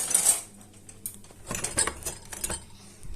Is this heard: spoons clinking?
yes